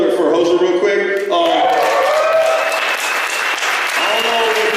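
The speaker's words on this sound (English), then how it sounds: "give maybe a round of applause for Hoser real quick" Audience applause at a Denver café open mic night, a continuous wash of clapping layered with loud talking and cheering voices over it, fairly close and steady for the whole stretch.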